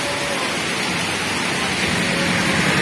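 Heavy monsoon rain in northern Bengal pours down as a steady, dense hiss that fills the whole clip, loud and close, with no voices over it.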